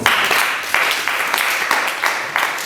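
A church congregation claps for Jesus at an evening Sunday service, many hands striking together in a regular, rhythmic beat roughly three times a second, loud and close, keeping an even pulse throughout.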